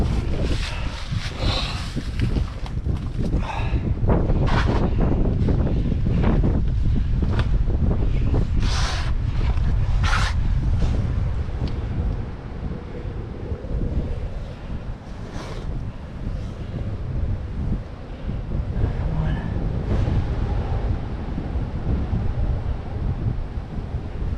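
Strong wind at a glacier crevasse roars and buffets the microphone in heavy, continuous low rumbling gusts, loud and close throughout, with no voices.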